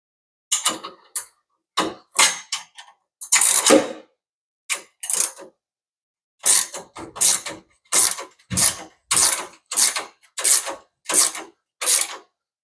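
A hand ratchet tightens body mount bolts, giving close, crisp bursts of rapid clicking with short pauses between strokes, then settling into a steady run of evenly spaced ratcheting strokes.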